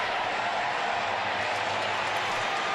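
A large crowd at a Saturday afternoon baseball game, Boston at Baltimore, fills the stadium with a steady, loud wash of cheering and murmuring that holds without pause throughout.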